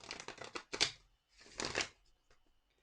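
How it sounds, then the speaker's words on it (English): Tarot cards are shuffled close up, two quick riffling bursts of crisp flicking paper followed by faint light taps, quiet and without talking. "I'm going to shuffle them a little bit."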